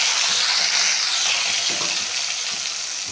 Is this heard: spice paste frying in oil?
yes